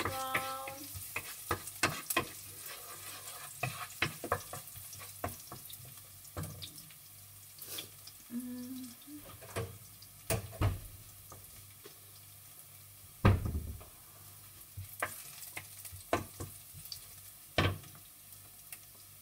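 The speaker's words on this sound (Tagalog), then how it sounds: "So, saute the golden brown." Food being stir-fried and sautéed in a pan until golden brown, with a steady sizzle, scraping stirs and sharp clanks of a utensil against the pan, running water from a tap heard in between, close and clear without talk.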